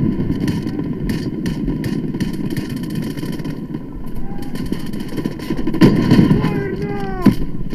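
Gunfire in the mobile shooter Delta Force Mobile, a rapid stream of shots over a rumbling engine-like drone, with a louder burst near the end and some voices in the background.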